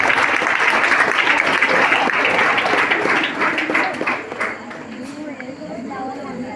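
Students at an educational guidance event applaud together, a loud, busy patter of many hands that thins and fades out midway, with voices murmuring beneath.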